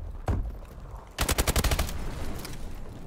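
Gunfire in the video game Call of Duty: Advanced Warfare, a single shot followed by a rapid automatic burst of cracks over a busy background of game noise.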